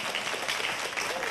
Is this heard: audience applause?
yes